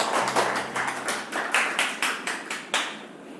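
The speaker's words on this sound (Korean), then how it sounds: "박수 주세요." A small Toastmasters club audience in Gangnam claps after a speech, with distinct, evenly spaced claps in a quick rhythm, fairly faint and close, with no voices.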